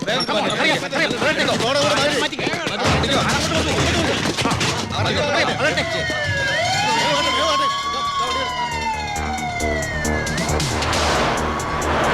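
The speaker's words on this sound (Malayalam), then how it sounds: "ഏത് നിമിഷം അവിടുന്ന് ഫയർ എഞ്ചിൻ വരും" A fire engine's wailing siren rises and falls in the distance, growing louder, while people talk urgently nearby under traffic noise.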